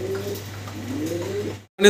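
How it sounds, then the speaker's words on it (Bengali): A pair of black Maltese pigeons coo softly and steadily at close range, a low continuous murmur that cuts off abruptly near the end before a brief rustle. "ব্ল্যাক এক জোড়া মাল্টেস কবুতর"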